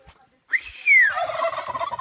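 Turkeys on a rural farm let out a loud, warbling gobble that rises and then descends, followed by a rougher chorus of more gobbling from the flock, with no one speaking.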